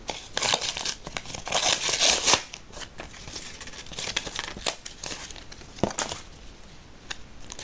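Plastic packaging crinkles and rustles in bursts, close by, with sharper crackles scattered throughout and no talking.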